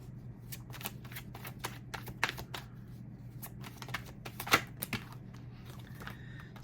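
Tarot cards shuffled by hand in a quiet room, a steady run of soft, close riffling flicks with one sharper snap midway, no talking.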